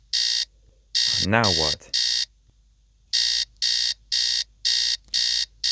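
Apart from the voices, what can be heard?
alarm clock ringing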